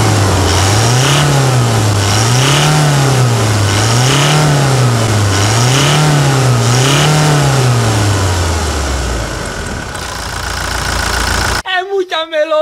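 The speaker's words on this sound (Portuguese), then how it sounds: "O motor a diesel tem uma sonoridade... inexplicável" A 2017 Toyota Hilux diesel engine with a remapped tune revs loudly and repeatedly in rhythmic waves up and down, close by, then settles before a brief burst of voices at the end.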